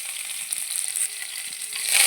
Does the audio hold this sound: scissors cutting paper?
no